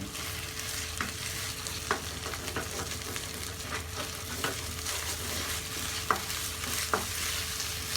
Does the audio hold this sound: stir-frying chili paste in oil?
yes